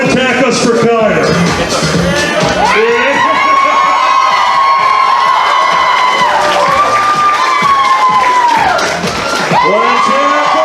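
An audience at a fursuit dance competition cheers, whoops and shouts loudly and continuously, with a host's voice ringing out over the crowd noise.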